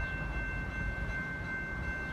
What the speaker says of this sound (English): The next Metra train approaching your station will be a Metra Express train and will not stop.